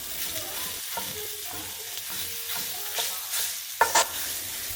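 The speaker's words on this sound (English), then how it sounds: "you're going to let your meat brown" Meat browns in a breakfast skillet with a soft, steady sizzle, stirred now and then with faint scraping and clinks, while quiet background sounds continue underneath.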